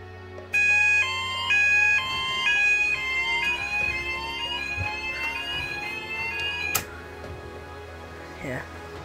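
A fire alarm sounder goes off during a system test, sounding a loud, high-pitched pulsing electronic tone that shifts into a steady rising whoop; it is heard nearby for several seconds, with faint background noise and clatter.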